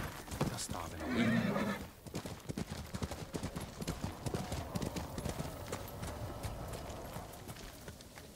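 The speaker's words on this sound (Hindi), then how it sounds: "चलो मेरे घोड़े" A horse in the Ghost of Tsushima video game gives a loud whinny early on, then its hooves clip-clop in a steady trotting rhythm that carries on to the end, with a person talking quietly at the start.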